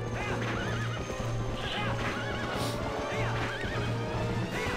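A horse whinnies repeatedly in rising, wavering calls over a steady rhythmic clip-clop of hooves, with constant game-like background sound, close and loud, in The Legend of Zelda: Twilight Princess.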